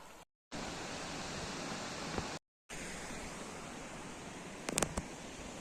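River water rushing in Taif, Saudi Arabia, a steady broad roar of flowing water heard close, with a couple of brief dropouts and small clicks near the end.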